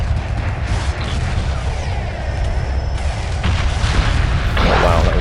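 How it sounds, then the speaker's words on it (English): A big explosion in the space strategy game Homeworld Remastered rolls out as a loud, deep rumbling boom that sustains for several seconds, with crackling bursts swelling near the end. "Oh wow, that was a big explosion."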